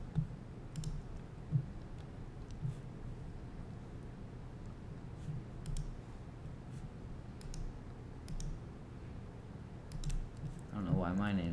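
Scattered clicks of typing on a computer keyboard come in small irregular bursts over a quiet room hum, and a voice speaks briefly near the end.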